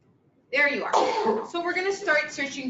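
A single sharp sneeze bursts out, followed immediately by a person talking close by.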